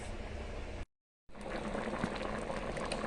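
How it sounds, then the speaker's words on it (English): A pot of Jamaican stew peas with pigtails and chicken foot bubbles steadily on the stove, a close, continuous simmering gurgle broken by one brief gap of silence. "Pot bubbling nicely, smells wonderful."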